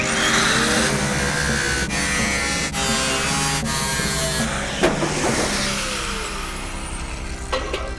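A supercharged Jaguar engine in a blown rat rod runs loud and close, idling roughly with sharp throttle blips and revs rising and falling, no voices over it.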